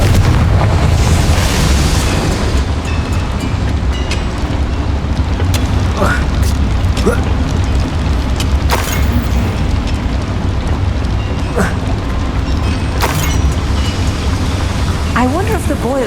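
A Confringo blasting spell detonates in Hogwarts Legacy, setting off a loud, sustained rumbling roar that fills the scene near a boiler. Sharp crackles and pops flare up through it, and a voice talks at times over the noise.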